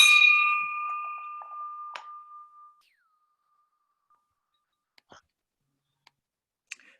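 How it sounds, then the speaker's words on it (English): One bright bell strike adjourning a Rotary Club meeting rings out and slowly decays over a couple of seconds, followed by near silence and a few faint clicks. "And now I have the bell, so meeting adjourned."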